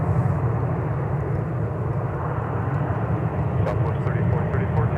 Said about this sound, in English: Got an arriving Southwest 737.